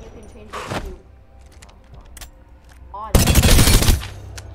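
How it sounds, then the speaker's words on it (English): Automatic weapon fire in the Apex Legends video game, switched to auto with a Select Fire Receiver hop-up: a short burst, then a louder sustained volley of rapid shots, with game clicks and mechanical sounds between. "It has a hop-up called Select Fire Receiver, which basically you can switch the fire mode."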